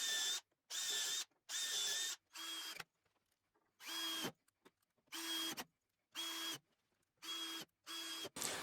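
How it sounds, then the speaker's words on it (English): A power drill drives screws into the wooden support for a jointer planer fence in repeated short bursts, each whine stopping abruptly with brief silences and clicks between them, close and clear. "now I'm just going to secure this with some screws"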